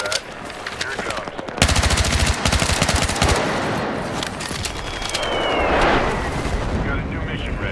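Incoming strike in Battlefield 6: loud machine-gun bursts and heavy explosions rumble and crack together, the barrage building and swelling over several seconds with voices calling out over the din.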